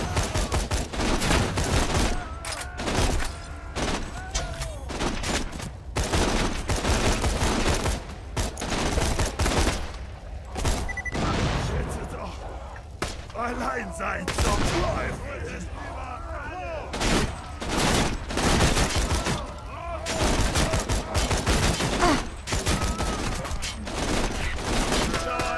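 Relentless gunfire in the video game Borderlands 2: rapid overlapping shots and bursts crack nonstop through a loud firefight, with a few brief lulls.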